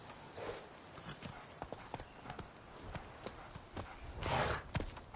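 Roach the horse gallops in The Witcher 3, hooves clip-clopping in a quick, steady rhythm at moderate loudness, with a louder swell of movement near the end.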